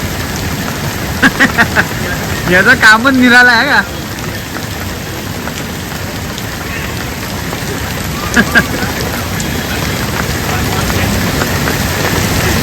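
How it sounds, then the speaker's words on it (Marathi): Steady heavy rain hisses throughout at a dam, with someone talking briefly over it near the start and some faint clatter. "पाऊस पडतो फुल"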